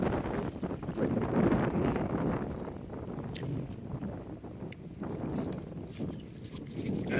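Strong hurricane wind buffets the microphone outdoors in a continuous, loud roaring rumble that surges and eases over several seconds, with no talking.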